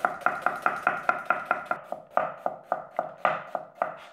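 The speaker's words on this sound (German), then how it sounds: "Die schneide ich mir auch in Würfel." Knife chopping half an onion into cubes on a cutting board, a steady run of about eighteen close, crisp thuds with no talk.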